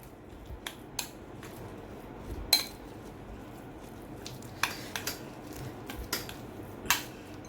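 A spoon stirs garlic butter in a bowl, giving faint, scattered metallic clinks and scrapes at an irregular pace against a quiet kitchen background.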